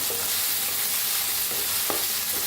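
Tomato is stirred into a potato and brinjal curry frying in a pan, a loud, close, continuous sizzle with a few scraping spoon strokes and no voices.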